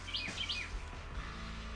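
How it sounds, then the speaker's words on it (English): Birds chirp faintly outdoors, a few quick high tweets in the first part over a low, steady background hum. "Birds."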